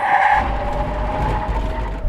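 A Tesla Cybertruck and a Hummer EV brake hard from 70 miles an hour on a test track, tires squealing and skidding in a loud, sustained screech over road rumble that fades as the trucks slow.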